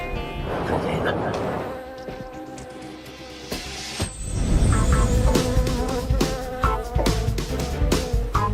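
Insects buzzing continuously up close, a busy droning hum with some clatter and movement throughout.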